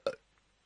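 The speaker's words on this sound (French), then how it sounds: "Il a fait un rot." A single short burp, close and fairly loud, over quiet background with no talking.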